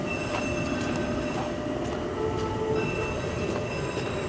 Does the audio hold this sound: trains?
yes